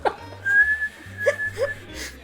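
A whistle gives a thin, steady high-pitched tone for about two seconds, with a few short squeaky chirps at the start and toward the end and low hum beneath it.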